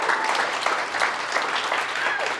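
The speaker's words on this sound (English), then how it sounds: "can we get a round of applause from Micah and Hamudi?" A roomful of people at a live event claps steadily and energetically throughout, a dense patter of applause with voices mixed in.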